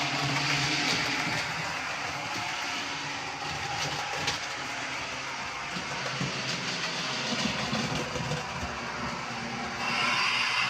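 A MyLocosound sound unit in a model locomotive throttles down, giving a steady, fairly loud rumbling diesel-like drone with clattering rail noise that eases slightly midway before swelling again at the end, with no talking.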